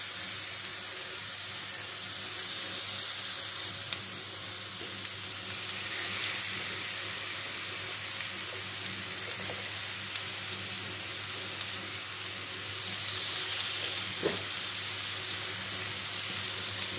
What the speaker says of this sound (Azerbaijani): Toyuğun ətini aparatda pişirəcəm.